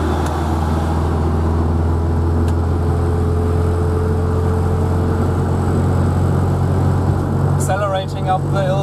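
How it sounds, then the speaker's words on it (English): A 1953 Opel Olympia Rekord with a swapped and overhauled transmission pulling uphill at full throttle, a loud steady low engine drone heard from inside, with a brief higher whine and a voice near the end. "Accelerating up the hill full blast,"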